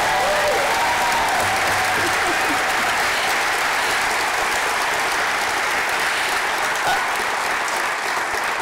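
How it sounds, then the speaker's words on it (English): A large crowd applauds loudly and continuously at an awards event, a dense wash of clapping that holds steady throughout. "let's give him a huge round of applause"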